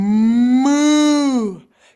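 A human voice imitates a cow's moo, standing in for a moose: one long, sustained, steady low tone that holds and then tapers off, loud and close, alone.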